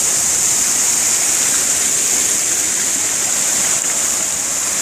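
Rushing water pours steadily nearby, a loud continuous hiss of a small waterfall with no other sounds.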